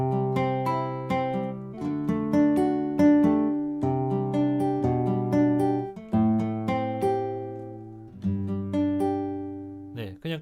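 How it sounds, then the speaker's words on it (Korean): An AEROBAND smart guitar plays its classical guitar preset, plucked nylon-style notes and arpeggios picked one after another with clear decays, close and alone for about ten seconds. "이건 클래식 기타 소리입니다."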